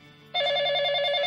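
A telephone starts ringing after a short pause, a steady, loud electronic bell tone that holds unbroken to the end, heard alone in an indoor scene.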